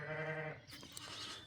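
A sheep bleats during lambing on a New Zealand farm with shedding sheep: one sustained, wavering bleat at close range, then fades into rustling farmyard background.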